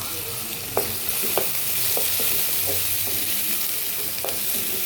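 Onions, mustard seeds, cumin, fenugreek and green chili fry in hot oil for a cluster bean curry, making a loud, continuous sizzle with periodic spoon scrapes and taps as they are stirred.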